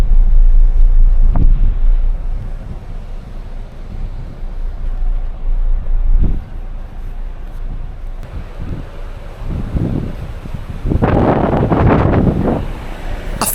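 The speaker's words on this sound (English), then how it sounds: "A final blast of channel wind." Strong wind buffets the microphone on a ferry deck in the English Channel, a loud continuous roar with gusty surges, rising in harsh bursts toward the end.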